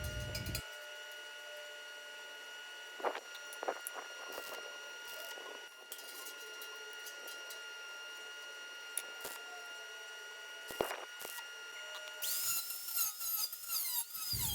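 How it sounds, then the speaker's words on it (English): Power tool cutting a small square opening in steel for a DIY backyard offset smoker: a steady, quiet high-pitched whine that runs throughout, with a louder harsher stretch near the end. "Here we are cutting out that little square I have drawn out, and then we're going to trim it out."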